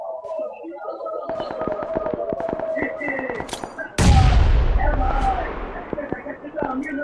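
Grenade blasts and gunfire in PUBG Lite squad gameplay: rapid rattling bursts of shots, then a loud deep explosion with a long rumbling tail, with players talking throughout.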